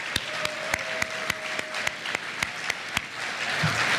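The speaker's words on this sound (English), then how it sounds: "let's give him a round of applause" Sparse clapping at an awards ceremony: a few distinct, evenly spaced hand claps over a quiet room, close and thin rather than a full crowd.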